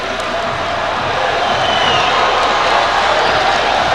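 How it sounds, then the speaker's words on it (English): Dense, steady crowd buzz fills an arena at a 2003 high school all-American slam dunk contest, a continuous loud murmur of many voices with scattered whoops and no clear break. "Crowd's already starting to buzz as we watch the replay of Charlie Villanueva."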